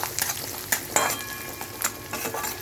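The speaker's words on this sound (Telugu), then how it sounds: "ఆయిల్లో ఇంగువ వేసాక వెల్లుల్లిపాయలు వేసుకుంటాం" Garlic and asafoetida fry in oil for gongura pachadi, a close crackling sizzle broken by repeated sharp stirring scrapes and clinks of a utensil against the pan.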